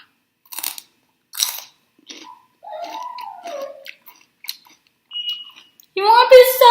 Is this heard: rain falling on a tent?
no